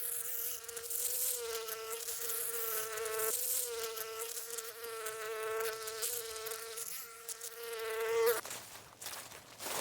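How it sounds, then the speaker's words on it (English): Steady, close insect buzzing with a strong droning tone that holds for about eight seconds, wavering slightly in pitch, then drops off near the end, leaving a softer hiss; bees linked to honey production, with no voices. "our ancestors were well aware of the significance of these buzzing insects"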